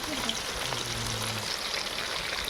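Fish fries in a pan with a steady, soft, close sizzle, while someone speaks briefly over it.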